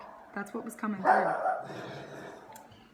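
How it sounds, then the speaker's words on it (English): A pet dog barks and yips in the background while someone talks over it, the barking close but partly masked by her voice. "Excuse me, that's my dog."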